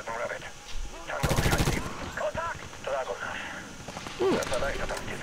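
Machine gun fire in the game Medal of Honor, one dense rapid burst of close shots amid battle noise, with voices talking over much of it.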